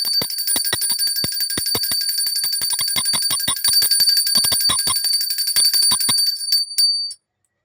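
A small hand bell is rung continuously for a Krishna Janmashtami puja, a bright, rapid, steady jingling that goes on for about seven seconds and then stops abruptly.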